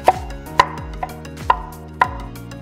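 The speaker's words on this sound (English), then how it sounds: "I'm gonna chop some more garlic." Garlic being chopped with a knife on a cutting board, five crisp, close knocks spaced about half a second apart with quiet between them.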